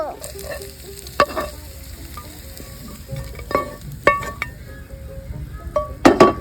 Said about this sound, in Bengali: হয়ে গেছে আমাদের চিকেন ফ্রাই, তো এবার নামিয়ে নিব।